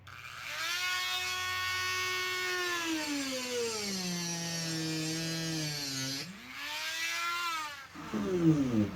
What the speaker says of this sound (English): The next method that works perfectly well is a Dremel with a cutoff wheel.